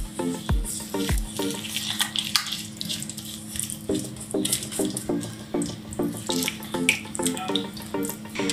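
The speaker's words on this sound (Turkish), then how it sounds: "Bunları önce bir karıştıracağım. Şimdi 1 su bardağı irmiğimi. Bunu da karıştıracağım." Semolina stirred in oil in a pan, soft irregular scraping and gritty swishing strokes close by, with a few sharp low knocks early on and a faint sizzling bed throughout.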